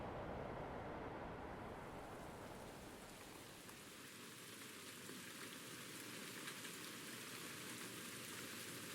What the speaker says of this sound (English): Oh, I can hear the rain now.